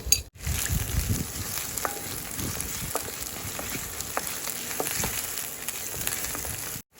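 Crushed Thai garlic and chili stir-fry in a wok with a constant close sizzle and scattered pops, briefly cut out at the start and again at the very end.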